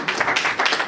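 Steady clapping from a group of people, dense and continuous with no pauses, fairly close and moderately loud.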